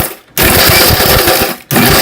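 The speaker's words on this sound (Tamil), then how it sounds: "மிக்சி ஜாரில் போட்டு நல்லா பவுடராட்ட அரைச்சி எடுத்துக்கலாங்க" A home mixer grinder pulverises Marie biscuits and sugar candy into powder, a loud harsh whirring roar cut by two short pauses, close up.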